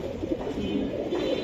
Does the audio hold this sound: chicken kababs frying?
no